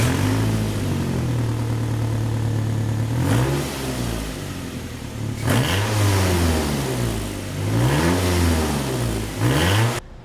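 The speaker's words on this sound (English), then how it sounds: "the converter assembly, which has the flex pipe built into it, has developed a leak and we have excessive exhaust noise" A 2010 Nissan Altima engine revs repeatedly with loud, raspy exhaust from a leaking flex pipe in the converter assembly, idle drone broken by three rising and falling revs, close and loud.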